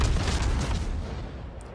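Naval shells from World of Warships gameplay: a dense run of deep booming gunfire and rumbling impacts, loud and close at first, then easing into a sustained low rumble.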